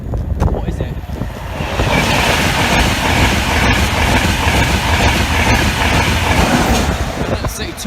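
An InterCity 225 train heading southbound to London King's Cross rushes past close by, a loud swelling roar with rhythmic wheel clatter that rises quickly, holds, then fades slightly, with a voice briefly audible.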